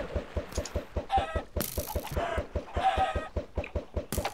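Chickens clucking in the Chicken Juggling video game, a rapid, regular train of short clucks with several louder squawking bursts over the top, close and busy throughout.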